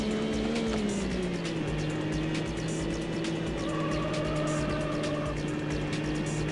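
A BMW Z3 in the racing game Need for Speed High Stakes, automatic gearbox, drones loudly and continuously, its engine tone dropping at a shift and then holding a steady pitch, with no voices.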